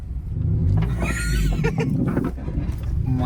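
A powerful Ferrari engine rumbling and revving up close, a deep growl that swells and roars before settling into a steady throb.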